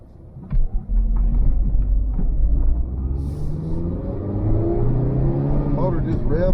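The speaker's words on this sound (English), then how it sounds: "Motor just rev up." Engine of a third-generation Mitsubishi Eclipse GS rumbles low and loud, rising in revs as the pitch climbs, heard nearby with a voice talking over it.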